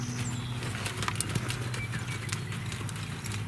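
A horse lopes during a riding warm-up drill, and its hooves fall in a quick, soft repeated clip-clop over a steady background rumble. The sound is fairly faint and no one speaks.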